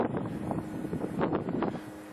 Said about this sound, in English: And you can see it falling, and it's windy out.